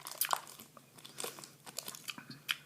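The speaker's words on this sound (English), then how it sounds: "when you chew it, it chews like a piece of gum" Toffix fruit chew candy being chewed close to the mic, soft wet smacks and sticky clicks in an irregular rhythm, quiet and intimate with no talking.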